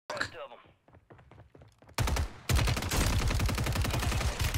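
Rapid automatic gunfire in Call of Duty on Rebirth Island, with scattered shots at first, then a loud, sustained burst of closely spaced shots.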